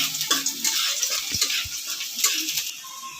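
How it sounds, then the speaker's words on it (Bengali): Minced garlic stirred and frying in white oil in a pan, a soft steady sizzle with intermittent scraping and clinking of the spoon against the pan, close up and without talk. "রসুনটা একটু নেড়ে নেবো হালকা"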